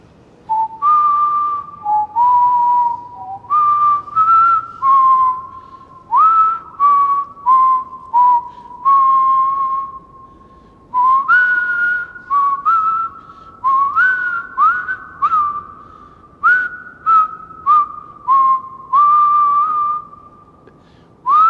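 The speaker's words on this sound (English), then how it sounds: "Do you know what I'm whistling?" A person whistles a clear melody close up in New York City, in short phrased notes with brief pauses, steady and loud with slight echo.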